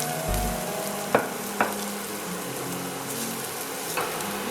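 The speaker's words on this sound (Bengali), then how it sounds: "রসুন কুচি দিয়ে এগুলোকে একটু ভেজে নিচ্ছি" Chopped ginger and garlic sizzle in about two tablespoons of oil in a pan, a steady close hiss broken by a few sharp clicks of stirring.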